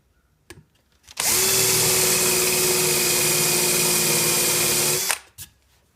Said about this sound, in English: I've decided to do an extra pilot hole with the Forstner bit